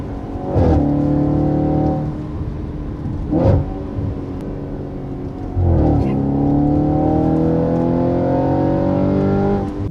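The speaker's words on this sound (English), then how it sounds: "the burbles and the ignition in the exhaust chamber with the fuel." A 2015 Audi RS5 B8.5 with its 4.2-litre V8 revs and shifts, its exhaust crackling and burbling between gears; three rising engine sweeps, loud and close, with pops at each change.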